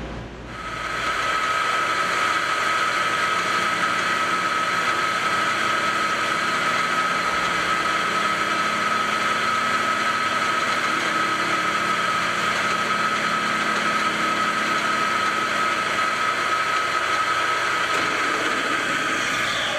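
A metal lathe turning a taper on a steel hammer head held in a 4-jaw chuck, a loud steady motor hum with a constant high whine that starts after a brief quiet and holds evenly throughout.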